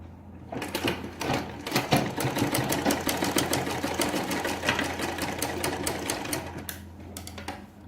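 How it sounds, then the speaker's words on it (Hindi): A sewing machine stitching the neck strip of a kurti runs in a fast, even rattle of needle strokes over a low motor hum, close and loud, starting after a brief pause and slowing to a stop near the end. "यहाँ से यहाँ आपको स्टिच करना है, सिलाई लगाना है"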